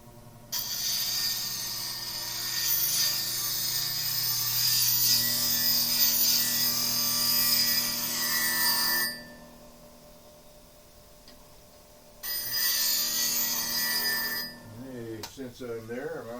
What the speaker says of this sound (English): So I'm going to go to the grinder real quick.